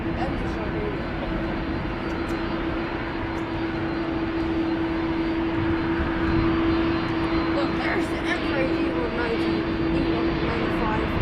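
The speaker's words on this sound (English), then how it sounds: "A rare Embraer." A rare Embraer jet at Amsterdam Schiphol produces a sustained engine rumble with a strong steady tonal hum, continuous and fairly close for about eleven seconds, while a person talks over it.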